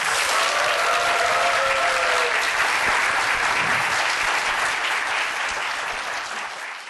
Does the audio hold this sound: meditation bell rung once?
no